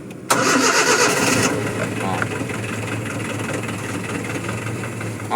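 A van engine cranks and catches with a sudden loud start, then settles into a steady idle that continues to the end.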